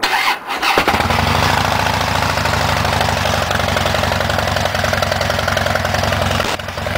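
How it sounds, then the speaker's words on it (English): A motorcycle engine fires up and runs close by, a loud, steady, throbbing idle that holds for several seconds before a brief dip at the end. "it's gonna be a little loud with the bike"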